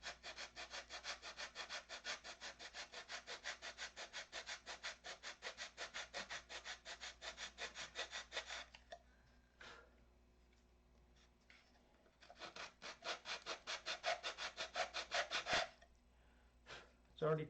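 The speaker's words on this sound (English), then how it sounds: "Let's sand this clean." Sandpaper rubs rhythmically over a part for a control line model aircraft, close and steady back-and-forth strokes in a long run, a pause, then another burst of strokes.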